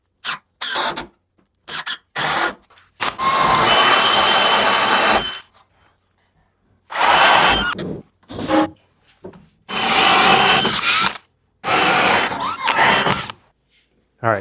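A power drill whirs in several bursts driving screws to mount a thermostat, one long run followed by shorter ones, with quiet gaps between them, close by.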